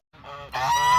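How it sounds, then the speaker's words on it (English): Five geese on a small hobby farm honk loudly and close by, starting after a brief silence with overlapping calls that swell into a sustained chorus. "So I've got 5 geese."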